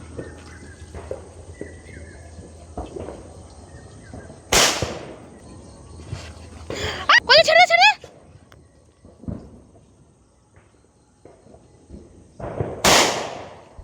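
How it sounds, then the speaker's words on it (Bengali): Firecrackers are set off for Kali Puja: sharp, loud bangs come at scattered intervals, with a rapid crackling burst in the middle, over low background noise and occasional voices. "এবারের মতো বাজি জ্বালানো শেষ"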